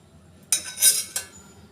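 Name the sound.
kadhai placed on gas stove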